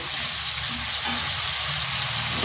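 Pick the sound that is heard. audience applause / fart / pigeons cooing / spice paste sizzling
spice paste sizzling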